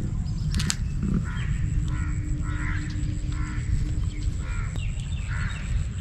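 A crow caught in a net caws repeatedly, about six harsh calls spaced roughly half a second to a second apart over a constant outdoor noise, moderately close.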